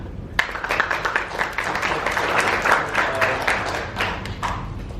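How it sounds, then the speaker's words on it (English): A conference audience at a youth fireside chat event breaks into applause to welcome a speaker, with distinct individual claps building into a steady, moderately loud round. "please join me in a round of applause"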